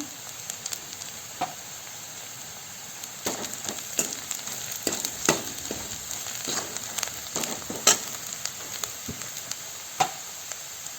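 Grated potato kees with onion-garlic masala roasts in a pan, giving a quiet, steady sizzle broken by scattered scrapes and clicks of stirring throughout.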